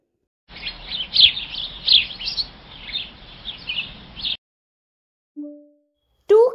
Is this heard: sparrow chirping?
yes